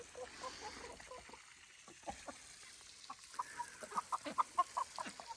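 Backyard hens cluck in low, scattered calls that build into a rhythmic run of clucks, moderately close over a soft outdoor hum.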